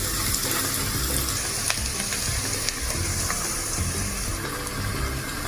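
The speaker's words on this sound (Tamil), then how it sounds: "இதை நல்லா கிளறி விட்டுருவோம்." Eggs sizzling and being stirred in a pan for chicken fried rice, a continuous crackling hiss with occasional scraping, close and steady.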